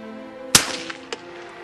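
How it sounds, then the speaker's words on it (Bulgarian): A single sharp gunshot from an old rifle cracks loud and close outdoors, followed by a fading echo and a faint second impact. "Много точно стреля тази пушка."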